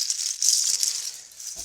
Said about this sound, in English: another seed pod rattle.